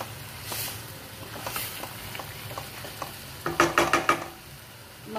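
Chicken keema frying in a tomato masala, a steady close sizzle with light stirring scrapes, rising to a burst of louder clattering stirs near the end.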